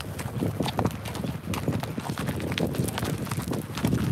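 Horse hooves clip-clop in a quick, steady rhythm on hard ground, close and clear, with faint voices in the background.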